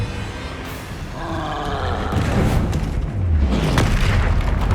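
A troll in Hogwarts Legacy lets out a deep, loud roar over heavy low booming. The growling rumble swells and continues throughout.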